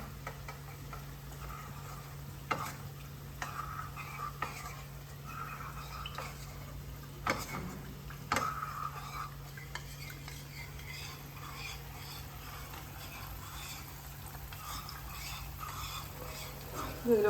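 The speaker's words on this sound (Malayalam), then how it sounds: "കട്ടയില്ലാതെ ഒന്ന് കലക്കിയെടുക്കാം" A spoon stirs one tablespoon of cornflour into water in a bowl for chilli paneer, giving soft scraping and scattered light clinks, with a faint steady hum in the background.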